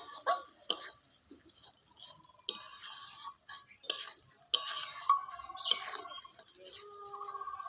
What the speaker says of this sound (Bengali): পরিমাণ মতো লবণ ভালো করে সবকিছু মিশিয়ে নিচ্ছি